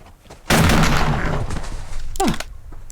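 A sudden loud burst of gunfire in the video game Subsistence, followed by a decaying rattle, then a second short sharp shot with a quick falling whine near the end.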